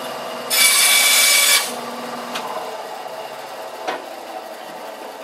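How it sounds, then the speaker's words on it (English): A block of sandpaper scrubs along the underside of a wooden model aircraft wing in one loud, steady burst of about a second, followed by fainter scattered scrapes and a single soft tap. "I have this to sand all the way down the bottom of the wing, just back and forth"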